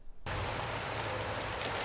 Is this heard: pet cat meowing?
no